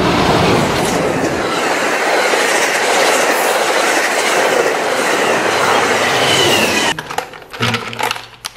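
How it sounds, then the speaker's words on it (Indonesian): A loud, rushing roar of a fast train passing close by in the video game Jurassic World Evolution 2, with rhythmic rumbling, fading into clattering and mechanical clicks near the end. "Wow, ini namanya kereta api cepat."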